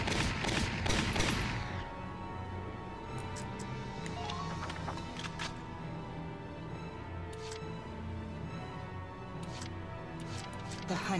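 Gunfire in Valkyria Chronicles: a loud opening burst, followed by scattered sharp shots and distant volleys over a low, steady battlefield rumble.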